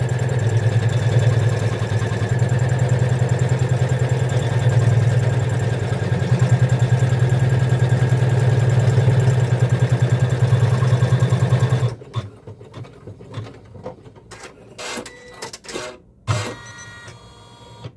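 An embroidery machine doing the final double stitch around a Kimberbell quilt-block design in the hoop runs with a steady, loud mechanical hum and rapid needle rhythm for about twelve seconds, then stops, leaving scattered faint clicks and handling noises.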